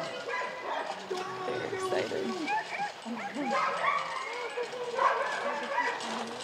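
A sled dog team barks, yips and whimpers in overlapping bursts at moderate distance, with people talking quietly over the dogs throughout.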